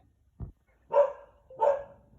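A dog outdoors at a land-surveying site gives two or three sharp, close barks in quick succession, clear against a quiet background with no talking.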